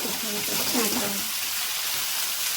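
Tomatoes fry in a pan for a village-style avarekalu sambar, with a bright, close sizzling hiss that runs the whole short stretch while a person talks over it during the first half.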